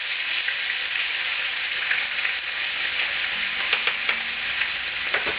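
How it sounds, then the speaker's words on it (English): Garlic fries in a pan while being stirred, producing a steady bright crackling sizzle up close with a few light spoon taps near the end. "Give it a little bit of a stir."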